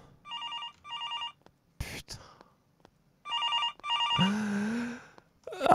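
A telephone rings twice in the At Tony's video game, each ring a quick trilling electronic burst. A voice breaks in briefly, then two more ring bursts follow, with a voice continuing over the sound.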